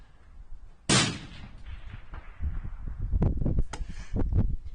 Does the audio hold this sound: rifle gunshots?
yes